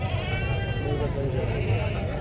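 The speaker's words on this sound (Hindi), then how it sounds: "ये देखो ना बकरी आपके सामने है।" Goats bleating on a farm where a herd of milk goats is kept, a wavering bleat heard clearly over steady background noise, with someone talking nearby.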